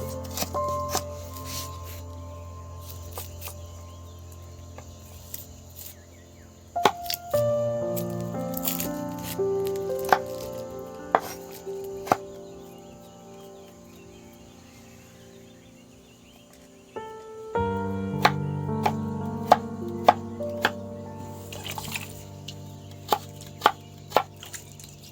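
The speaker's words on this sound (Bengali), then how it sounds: "বন্ধুরা আলু কাটিং চলছে এখন" Carrots and potatoes being cut with a knife on a board, a series of close, crisp chops and squishy slices in uneven bursts, with quieter pauses between runs of cutting.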